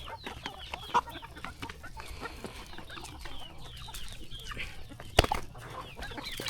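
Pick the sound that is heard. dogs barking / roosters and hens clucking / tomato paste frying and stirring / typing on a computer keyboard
roosters and hens clucking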